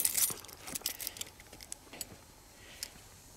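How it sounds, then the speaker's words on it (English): A set of keys jangles close up in a backpack side pocket, with a few bright metallic rattles early on, then sparser clinks fading out. "I have my keys."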